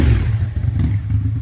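A 2000 Cagiva V Raptor motorcycle's V-twin engine runs loud and close, a deep steady rumble with some mechanical clatter and no voices.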